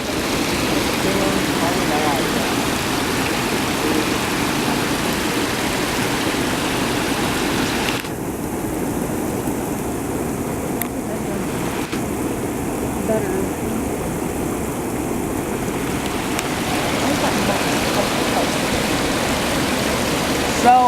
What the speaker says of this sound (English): it's pretty clean water coming over